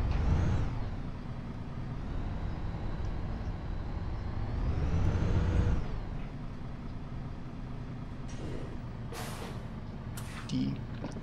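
A MAN Lions City bus in the OMSI bus simulator idles with a low engine rumble, followed by short sharp air-brake hisses near the end, with a voice speaking at times.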